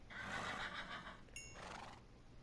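A Minecraft horse gives a single loud whinny from a game, a bright neigh with a rising squeal in the middle, alone without talk.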